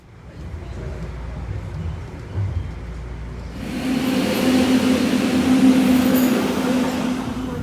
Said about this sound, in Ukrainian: знаходжусь у Торонто, у метро, і зараз я їду до готелю